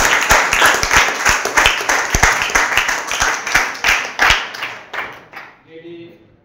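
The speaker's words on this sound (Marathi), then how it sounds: "आपण प्रशालेच्या वतीनं सरांचं एकदा जोरात टाळ्या वाजवून स्वागत करू" Students at a high school assembly give loud, close, dense applause to welcome a visiting teacher from Belgaum; the clapping runs steadily for about five seconds, then dies away into faint voices.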